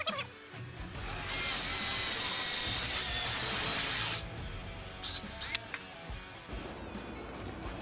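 A power drill bores holes for carriage bolts through wooden cornhole legs, with a loud, steady whine lasting about three seconds, then dropping into quieter handling and clatter.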